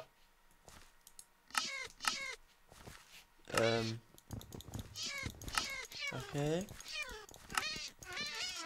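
Minecraft cats meow several times in short bursts amid game sounds, with someone talking over and between the calls.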